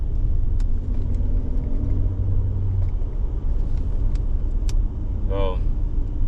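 Steady low road rumble and engine hum inside a moving 2014 Audi A8 with a 3-liter V6, a smooth, constant drone with faint clicks and a brief chime near the end.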